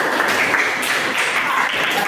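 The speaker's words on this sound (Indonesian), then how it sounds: "tepuk tangan untuk Vivian" A classroom full of students claps for a classmate named Vivian: a dense, even patter of many hands, steady and fairly loud, running for a couple of seconds without a break.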